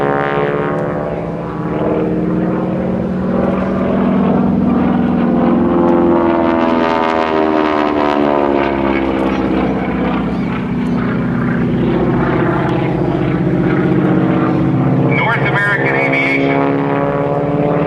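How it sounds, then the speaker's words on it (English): A propeller airplane drones loudly and steadily, its engine pitch rising and falling as it pulls up into a vertical clover loop at an air show, while a voice talks over it. "As he pulls up into the vertical, rolls the airplane 90 degrees and pulls on the stick"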